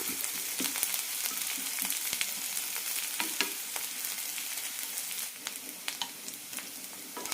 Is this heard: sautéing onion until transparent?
yes